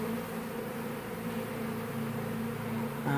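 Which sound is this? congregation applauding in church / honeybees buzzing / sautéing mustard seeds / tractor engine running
honeybees buzzing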